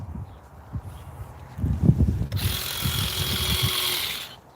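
Stihl HSA 26 cordless garden shears trimming shrubs outside a house, a steady battery-motor whine rising at the midpoint and holding for about two seconds over soft, scattered snipping and rustling clicks.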